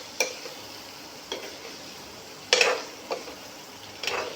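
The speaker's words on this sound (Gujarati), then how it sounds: "હવે આપણે જે આમાં બાફ્યા હતા જે વેજીટેબલ એ બધાય આમાં નાખીશું. પછી હળવે હાથે એને હલાવીશું." Boiled vegetables are stirred gently into a spiced mixture in a pan. A faint background sizzle is broken by a few soft spoon scrapes and clinks at irregular intervals, with no talking.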